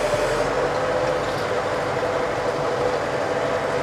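A Scout TE-504C tractor driving under throttle at low revs, a steady, dense engine rumble holding an even drone for the whole stretch with no speech.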